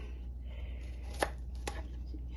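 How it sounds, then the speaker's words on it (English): Fresh garlic being cut with a knife during home Jamaican cooking: two sharp, separate chops against a board, close and distinct over a low steady background hum. "this is some fresh garlic here. I'm gonna cut it up."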